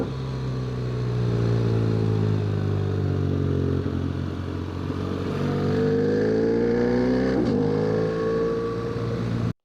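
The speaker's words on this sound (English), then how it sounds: "That is the full header replacement from Black Widow. It's a very nice and aggressive sound." A motorcycle fitted with a Black Widow full header replacement exhaust revs and runs loudly up close, its aggressive harmonic drone rising and falling through gear changes before cutting off abruptly.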